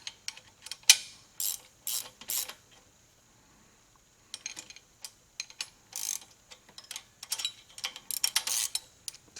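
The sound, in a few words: ratchet wrenches tightening rear disc brake bolts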